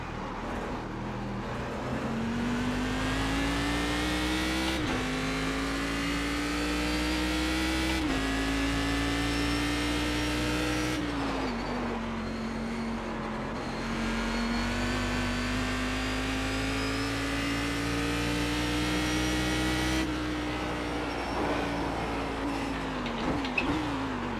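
Cadillac CTS-VR race car at Summit Point in the iRacing simulator, its engine note steadily rising and falling through gear changes, loud and continuous with no talk.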